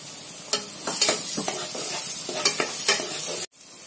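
Finely chopped tomatoes fry with softened onions in an oiled pan for chapati podimas. Repeated close scraping stirs sound over a continuous sizzle, ending in a sudden brief break, with no talking.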